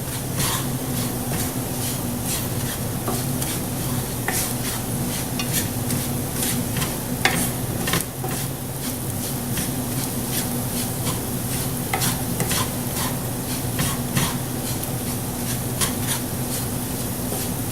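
Ritz cracker crumb mixture stirred in a pan over low heat, a steady scraping and soft sizzle running throughout with frequent utensil clicks against the pan, close and continuous.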